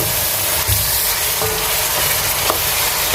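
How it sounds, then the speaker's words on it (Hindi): A spoon stirs thick chicken karahi gravy in a hot pan, giving loud, steady sizzling with faint scraping clicks throughout, close and alone. "थोड़ा सा चम्मच हिला देंगे।"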